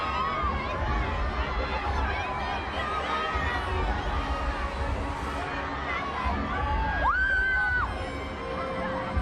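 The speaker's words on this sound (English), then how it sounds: "The screaming, the noise from the fans is phenomenal." A large crowd of fans cheers and chatters continuously at a distance at the Harry Potter 7 Part 2 red carpet premiere, with shouts and an occasional high squeal rising above the din.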